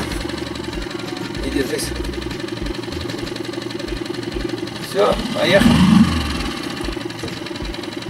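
An outboard motor on a PVC inflatable boat runs at a steady low idle throughout, with knocking pulses. It sits under close, loud speech, and the sound swells briefly near the end.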